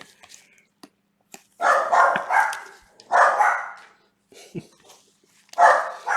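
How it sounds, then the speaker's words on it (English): Small dogs bark indoors at a neighbour's dog outside, several loud, close bursts of rapid yapping separated by short pauses, with a few brief whimpers between. "These little tyrants are all over barking."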